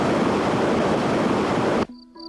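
The Alcantara, a mountain river bordering the Etna range in Sicily, giving a loud steady rush of flowing water that stops abruptly near the end and gives way to a faint tone.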